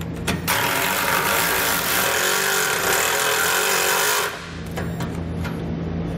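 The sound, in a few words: socket wrench loosening exhaust clamp nut on 2019 Jeep Cherokee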